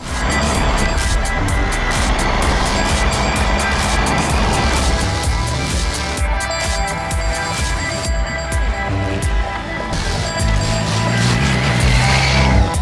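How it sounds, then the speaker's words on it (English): A Triumph Tiger 800 XCX motorcycle is thrown around on off-road trails, its engine note loud and continuous for the whole stretch and rising and falling with throttle changes. "when you're off-road, and you're kind of throwing the bike around"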